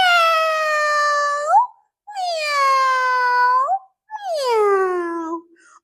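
A voice imitates a cat meowing during a children's library story time, giving three long, drawn-out meows with short pauses between them, loud and close.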